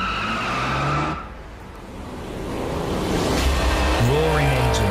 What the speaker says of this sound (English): Roaring engines, burning rubber, and tires squealing down the street.